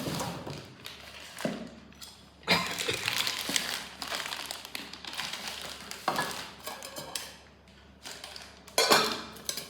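Metal pots and lids clank and rattle as they are handled in a kitchenware shop, with irregular bursts of clattering and crinkling under a steady room hum.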